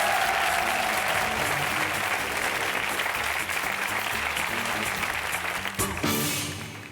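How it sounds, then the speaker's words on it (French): A television game show studio audience applauds in a sustained, even roar of clapping, moderately distant, with a brief burst of extra noise near the end. "On applaudit très très fort,"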